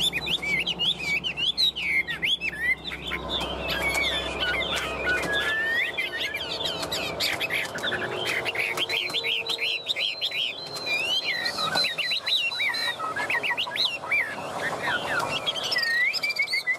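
A caged Chinese hwamei songbird sings loud and close in a dense, continuous stream of varied whistles, trills and chirps, with a low rumble beneath at the start.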